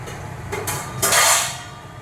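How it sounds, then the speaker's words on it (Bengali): Chicken for a Bengali kosha curry dropped into a hot pan, a brief knock followed by a sudden loud hiss and sizzle that fades over a second. "এইবারে আমি চিকেনটা দিয়ে দিচ্ছি"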